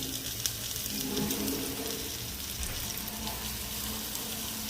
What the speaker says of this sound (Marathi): आता आपण फ्राय करून घेऊया